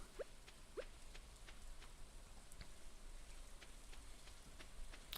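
Steady light rain patters throughout in Stardew Valley, a soft even hiss with faint scattered drops and a couple of brief chirpy game tones near the start.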